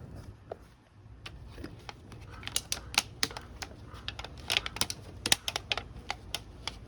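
Recycled aluminium can sheet being folded into a roof tile, a series of sharp, close metallic clicks and crinkles in an irregular rhythm, growing busier and louder toward the end, over quiet background.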